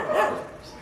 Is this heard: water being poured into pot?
no